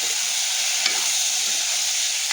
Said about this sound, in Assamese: এইটো পোলাও বনাই আছে আমাৰ এতিয়া পিঁয়াজ ভাজি পোলা ঢালি দিলে